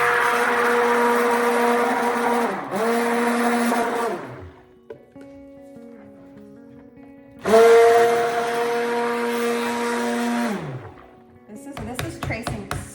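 Stick blender whirring loudly as lye is mixed into oils for clove and oat cold process soap, two long bursts of blending separated by a quieter pause, with clattering handling at the end.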